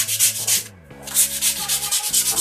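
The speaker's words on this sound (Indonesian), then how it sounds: "Setelah proses profil tadi masih ada bagian yang harus dihaluskan sedikit, masih kasar." Sandpaper rubbed over a wooden bird cage crown to smooth rough spots left after profiling, a close series of rhythmic scratchy strokes with one brief pause partway through.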